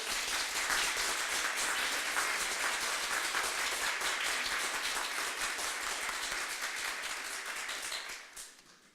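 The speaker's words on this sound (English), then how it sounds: "let's give them all a round of applause" A large audience at a faculty and staff award luncheon claps steadily in a dense round of applause for award recipients, fading out near the end with no voices over it.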